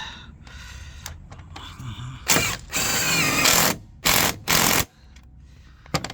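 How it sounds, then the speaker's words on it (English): Electric ratchet tightening a bolt on the auxiliary battery mount of a 2017-2023 BMW G30/G31 5 Series, several loud close bursts of buzzing ratcheting separated by pauses and quieter handling clatter. "you can get your electric ratchet"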